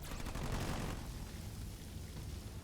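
Sniper units fire in a Halo Wars 2 real-time strategy match, heard as a dense, noisy barrage of game gunfire and explosions, loud at first and then settling into a steady, rumbling battle wash.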